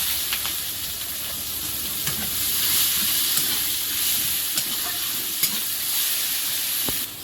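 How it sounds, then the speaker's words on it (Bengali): Steady, loud sizzling of panch phoron, bay leaf and chopped onion frying in hot oil, with occasional stirring clicks and scrapes, no voices. "এবার তেলের মধ্যে পাঁচফোড়ন তেজপাতা তরকারি চাপাবো পেঁয়াজ কুচি"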